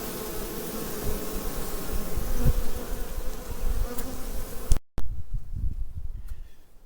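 Dense, continuous buzzing of many honeybees in a hive swarms close by, fluctuating in intensity, then fades sharply to a quieter hum near the end.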